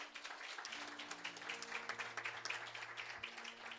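A church congregation at a Korean revival service claps together in sustained, dense applause, a steady wash of many hands with no pauses, while low organ or keyboard notes sustain underneath.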